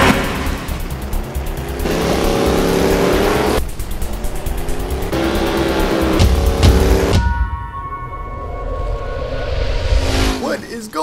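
A race car's engine revs loudly and climbs through upshifts in Need for Speed Heat played with a shifter wheel, rising in pitch before each gear change and dropping away, with tire noise and other game sounds mixed in.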